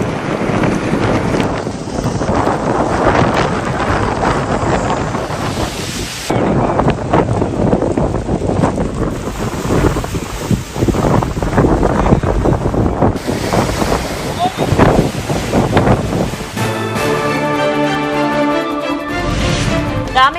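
Rough seas and strong wind at Pamban make a continuous loud roar of surf and gusting wind buffeting the microphone, ending in a brief tonal sound.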